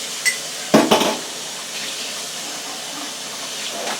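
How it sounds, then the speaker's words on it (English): A short splash of water is poured into a cooking pan of thickening sauce, a brief bright gush with a few clatters of utensils against the pan, then quiet kitchen background. "Let me add some more water."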